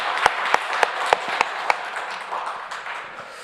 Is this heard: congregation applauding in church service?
yes